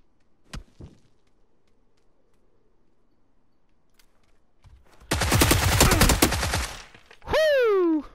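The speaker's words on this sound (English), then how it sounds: "I got me a Tommy gun" A Tommy gun fires in a video game as a fast, loud, close burst lasting about two seconds. Isolated clicks come before it, and a sweeping, whistling effect follows.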